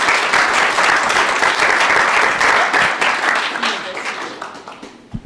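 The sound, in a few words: applause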